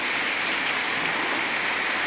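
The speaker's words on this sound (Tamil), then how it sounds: "செம மழை பெய்யுது" Heavy rain pours steadily outside a house, with running water adding a dense, continuous hiss that stays even and moderately loud throughout, with no voices.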